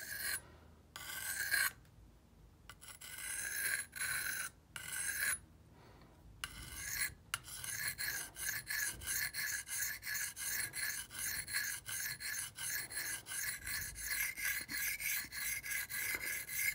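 A Cold Steel Rajah 2 knife blade is sharpened by hand with steady, rhythmic rasping strokes against a coarse edge. The strokes are quiet and close, broken by a few short pauses early on, then run continuously.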